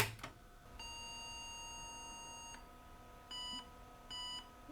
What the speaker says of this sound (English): Okay, I connected the speaker. Let's see if we get any beeps.